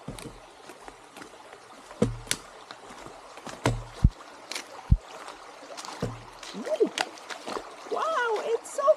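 Stream water splashes and gurgles around the feet of a hiker fording a river on a trail, with irregular sloshing steps near and fairly loud, under intermittent speech toward the end.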